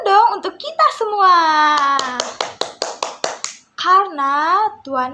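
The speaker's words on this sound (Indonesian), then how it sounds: "tepuk tangan dulu dong untuk kita semua" Children clap their hands together in a quick burst of about a dozen claps at a church Sunday school service, sharp and close, between stretches of someone speaking and singing.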